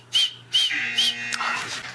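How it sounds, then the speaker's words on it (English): Three short, high tones whistled through the nose come one after another, thin and breathy, close up, with quiet pauses between them. "Whistles with his nose?"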